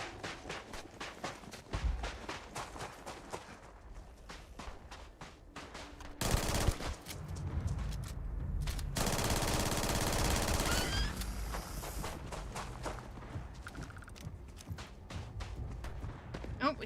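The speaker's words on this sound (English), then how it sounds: "we see some shooting over there" Gunfire from the Starfield Shattered Space expansion, with bursts of rapid automatic fire and scattered shots that flare into a dense, loud volley in the middle, amid game sound effects and footsteps.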